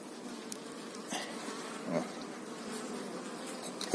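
A continuous, steady buzz of many honeybees swarms around an opened Ukrainian multi-storey hive of Carpathian bees, with occasional closer bees passing by and no talking.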